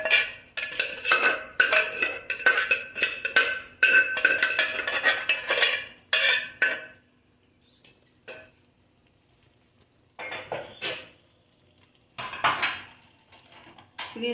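Cooked moong dal mashed in a metal pot: rapid scraping and clinking strokes of a utensil for about six seconds, then sparse, isolated bursts with quiet gaps between.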